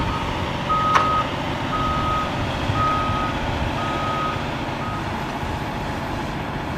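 A truck backs up, its reversing alarm giving a slow run of evenly spaced beeps over a steady engine rumble, with one brief sharp knock near the start.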